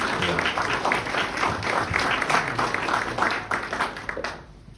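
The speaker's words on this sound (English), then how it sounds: "Give them a round of applause" An audience at a Norman Rockwell art presentation gives a round of applause for the presenters coming up: dense, steady clapping from many hands, fairly close, that tapers off near the end.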